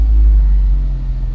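Car engine idling in a close, loud, deep steady rumble that eases slightly toward the end of the brief stretch; no talk.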